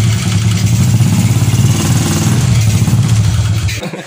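A motorcycle with a makeshift fix to its clutch plates revs hard and close as it is put into gear, a pulsing, throaty engine roar that cuts off abruptly near the end.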